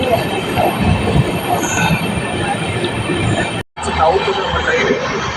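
A passenger train rumbles steadily along the rails in Tamil Nadu, India, with broadband rolling noise and faint squealing, briefly cutting out before the clatter resumes.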